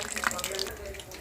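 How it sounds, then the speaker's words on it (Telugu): Water poured into dosa batter in a home kitchen makes a brief, close splash over faint background noise. "పిండిలో అయితే వాటర్ వేస్తున్నానండి."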